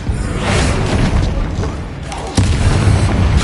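Repulsor spell blasts in Hogwarts Legacy, a dense, booming whoosh that rumbles throughout and swells with a sharper burst near the end, loud and close.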